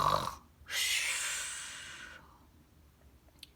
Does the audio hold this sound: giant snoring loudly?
yes